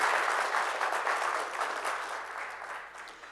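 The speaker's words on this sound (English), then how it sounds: "let's give God a hand clap of praise" Church congregation claps in praise, a brief burst of dense applause that swells and then gradually fades, with little else audible beneath it.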